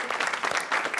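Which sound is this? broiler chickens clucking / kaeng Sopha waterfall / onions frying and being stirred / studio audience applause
studio audience applause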